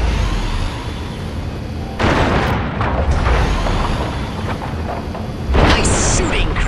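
Death beam weapon blasts in the Destroy All Humans remake: two heavy booming bursts, one about a third of the way in and another near the end, over a loud continuous rumble of game sound.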